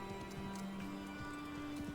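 A horse in the video game Assassin's Creed Valhalla, with soft rhythmic hoof thuds under a steady droning tone.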